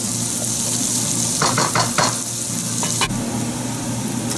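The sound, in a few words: chopped red onion frying in a pan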